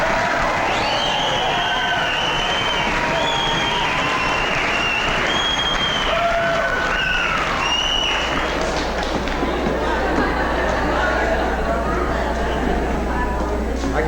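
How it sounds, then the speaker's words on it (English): An audience at a 1983 Fort Steele hootenanny show roars with cheering, whistling and foot-stamping, a dense continuous din with a few shrill whistles rising above the steady rumble throughout. "That's whistling, cheering, stamping feet, throwing hats in the air."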